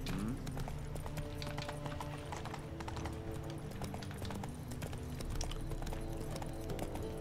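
Horse hooves clip-clopping in The Witcher 3 video game, a steady rhythmic trot of hoofbeats at moderate distance, continuous throughout with faint background ambience and no talk.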